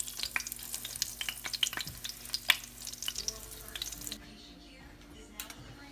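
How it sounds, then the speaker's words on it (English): Breaded eggplant sizzles and crackles steadily in hot oil close by, with a few light clinks; the frying noise cuts off after about four seconds. "Start frying."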